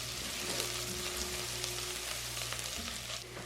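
Chopped ingredients and crushed garlic sizzle steadily in hot bacon fat in a pan, a continuous close frying crackle with a low hum beneath and no talking.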